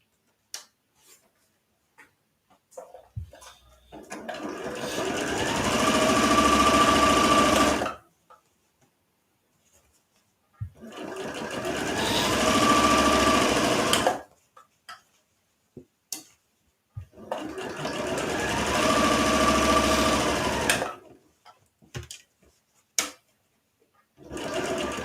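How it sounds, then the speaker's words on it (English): Sewing machine running a straight stitch on pajama pants fabric, three separate close bursts of steady motor whir a few seconds long, with quiet ticks and fabric handling between them. "I'll just stitch it once using a normal straight stitch"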